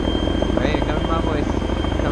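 Helicopter in the video game ArmA 3, a steady rotor thrum running beneath players talking over it.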